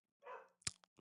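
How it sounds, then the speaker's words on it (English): Several pet dogs bark indoors, a burst of sharp close barks with a few shorter yips after a brief muffled rumble, heard in quick succession. "I don't know what my dogs are barking at right now."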